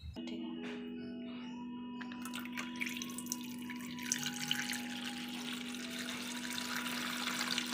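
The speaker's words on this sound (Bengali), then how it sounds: "এটা কি পড়ছে? জল" Water runs steadily from a tap in a home kitchen, a continuous close hiss and splash that grows slightly louder and brighter toward the end, with no talking.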